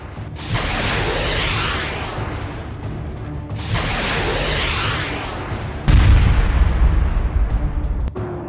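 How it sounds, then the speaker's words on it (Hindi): Hezbollah rockets fired from Lebanon striking Israel's Ramat David airbase: two long roaring whooshes, then a heavy boom with a rumbling tail and a final sharp crack, loud and without voices. "एक बार फिर लेबनान से खतरनाक रॉकेटों ने इजरायली बेस को धमाकों से हिला डाला।"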